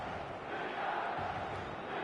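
Stadium crowd in the eFootball video game, a steady, dense roar of many voices holding at an even level throughout with no breaks.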